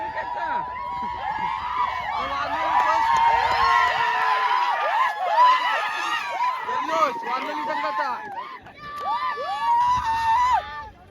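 A crowd at a tennis-ball cricket match cheers and celebrates nearby, with excited shouts, overlapping voices and bursts of yelling that swell and fall over about eleven seconds.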